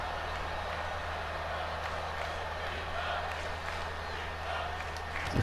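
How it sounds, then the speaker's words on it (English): Steady crowd noise fills a WWE 2K22 wrestling arena, a constant distant roar of chanting that carries evenly throughout while a commentator talks over it. "The crowd chanting behind Pete Dunne here"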